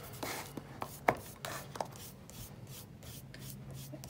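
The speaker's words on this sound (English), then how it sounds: "I'm just gonna wipe off my brush." Paint brush being wiped off, soft rubbing and dabbing strokes in irregular bursts with a couple of sharper taps, quiet and close, no voices.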